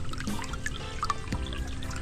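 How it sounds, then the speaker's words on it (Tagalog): A tap runs with a weak, thin flow of water, trickling and dribbling quietly with small irregular splashes, fairly close, with no talking. "Yan, mahina lang ang tubig talaga."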